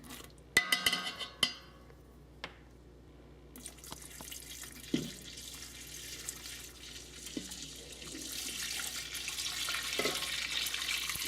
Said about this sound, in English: And then we're going to slowly add the milk.